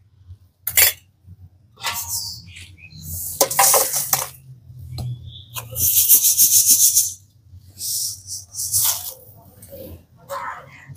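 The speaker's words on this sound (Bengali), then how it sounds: "এবারে কড়াইটাকে নামিয়ে আবার আমি ছাকনার মধ্যে ছেঁকে নেব।" Hot, freshly fried puffed rice pours from a kadai into a sieve, irregular bursts of dry rattling and rustling with metallic clinks, close and intermittent over a low hum.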